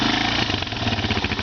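An ATV engine revs close and loud, a rough, throbbing mechanical drone that keeps going steadily through the short burst with no let-up.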